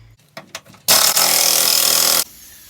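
Power tool breaking loose a tight bolt on the gearbox mounting of a Toyota Aygo, a few short clicks and then a loud, sustained buzzing rattle for over a second, close up.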